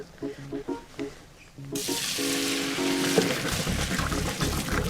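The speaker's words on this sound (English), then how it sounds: "Just drain the pasta." Cooked capellini pasta is tipped into a strainer, releasing a sudden steady rush of pouring water that hisses and splashes for several seconds after a few short clinks and some talk.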